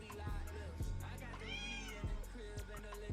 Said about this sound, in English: If you hear that noise, it's my cat.